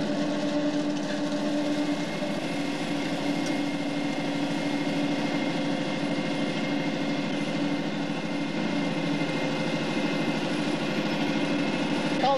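A farm tractor engine runs at a steady idle-like drone with a constant hum and faint mechanical tones, unchanging and close for the whole stretch, with no talk.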